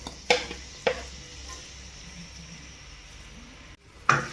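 Onions and cumin seeds frying in hot oil in a pan give a steady soft sizzle close by, broken by a few sharp clanks of a spoon against the pan.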